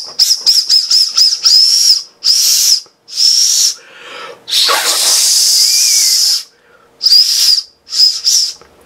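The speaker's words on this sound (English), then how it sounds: "I'm gonna see if I get this to whistle one more time." A whistle built into a Zanflare F6 flashlight, with water inside it, blown in a series of short and longer bursts, sharp and breathy with a gurgling hiss, fairly close.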